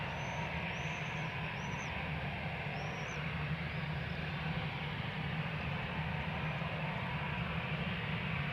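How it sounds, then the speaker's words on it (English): A 14-year-old Airbus A319 bound for Bristol lining up for takeoff at Amsterdam Schiphol, a steady distant jet engine rumble and whine holding constant throughout. "about to line up to go to Bristol. A319."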